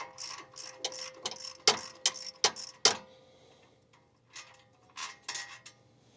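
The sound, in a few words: wrench loosening a bolt on an OEM 3rd function kit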